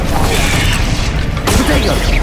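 The Incendio fire spell is cast in the video game Hogwarts Legacy, giving a loud, dense rushing burst that runs steadily and then flares again with a sudden whoosh partway through.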